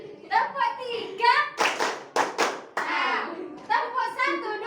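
Schoolchildren in a classroom clap a counted pattern, a few sharp group claps clustered in the middle between stretches of children's chanting voices, fairly close and moderately loud.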